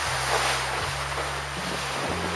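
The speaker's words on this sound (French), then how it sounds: "Il y a des grains, la mer est démontée." A Mini 6.50 racing sailboat crosses rough, squally seas in 23 to 28 knots of wind: steady roaring wind and rushing water, with low rumbling buffeting against the hull throughout.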